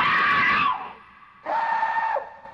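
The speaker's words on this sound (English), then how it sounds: "Can I find something else but screaming women?" A woman in a horror video game lets out two long, loud screams separated by a brief pause, the second slightly shorter and ending abruptly.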